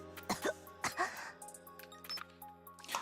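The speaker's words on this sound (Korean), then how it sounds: "콜록거리는 소리 때문에 시끄러워서 잠을 잘 수가 있나?" Coughing and throat clearing from a character in the video game Goddess of Victory: NIKKE, a few harsh bursts spread across the moment, with background music or tones underneath.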